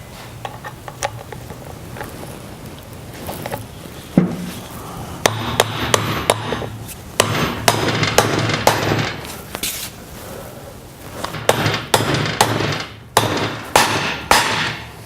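Sharp metal hammer strikes ring out repeatedly as a Timken wheel bearing race is driven into a Harley-Davidson wheel, some in quick bursts and others spaced apart, loud and close with clanging metallic overtones.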